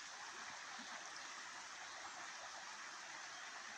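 A forest stream flows with a steady, continuous babbling rush, faint and even throughout with no voices.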